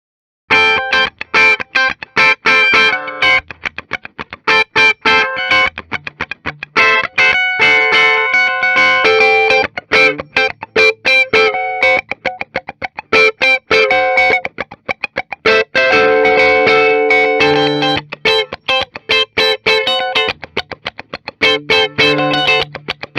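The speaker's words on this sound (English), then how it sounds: "Let's go ahead, plug it in, and hear how this reissue sounds." A 2022 Gibson Les Paul reissue from the MOD Collection, played loud through distortion and effects, with dense strummed chords and rhythmic chugging riffs that continue without a break.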